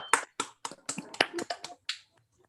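An online meeting audience claps in thanks: a handful of sharp, separate claps come in an uneven, sparse patter over a couple of seconds, then fade out.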